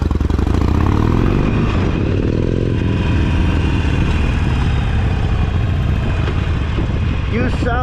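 A Harley-Davidson 48 motorcycle engine runs close by, with a steady, loud, rumbling idle that holds throughout. A faint metallic clatter is heard near the end.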